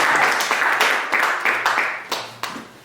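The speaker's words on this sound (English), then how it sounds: "Let's give a hand clap for that." Applause and hand clapping from a church congregation at a Women's Day service, a steady wash of clapping that swells and dips in waves for a few seconds, fairly loud and close, with no talk over it.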